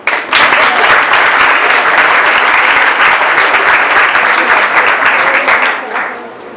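Loud, sustained applause from an audience at an interreligious peace and dialogue event, dense clapping running steadily for several seconds before tapering off at the end.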